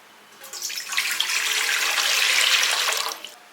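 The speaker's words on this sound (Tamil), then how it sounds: "இட்லி பாத்திரத்தில் தண்ணி ஊற்றிக்கலாம்" Water splashes steadily into a metal idli steamer pot for a few seconds, a bright rushing pour that swells and then stops.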